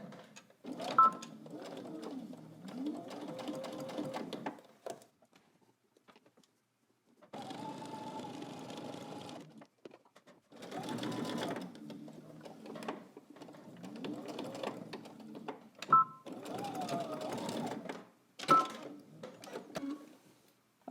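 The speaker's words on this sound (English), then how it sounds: "Back stitch at the beginning and at the end." A home sewing machine runs in several bursts, backstitching and stitching through all layers of a pants seam, with quiet pauses between runs and faint handling clicks.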